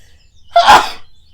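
A single sharp human sneeze breaks the quiet after a short intake of breath, loud, close and over in under a second.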